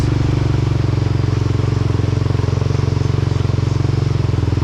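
A Honda Rancher ATV with new tires idles up at quarter throttle through thick mud on a trail, its engine making a loud, steady, rapidly pulsing drone close by.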